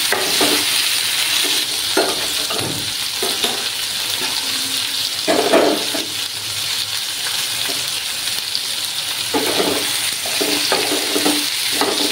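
Tangra fish curry being stirred in a pan, with steady sizzling and scraping strokes against the metal, close and continuous, with a faint watery slosh underneath.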